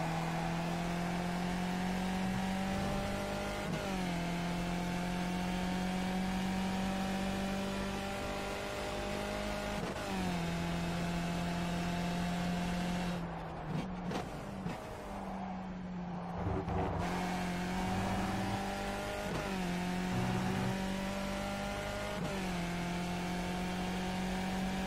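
A Skip Barber race car in iRacing at Donington drones loudly and steadily, revving up through gears with sharp shift drops every few seconds and a brief lift midway, with no voices over it.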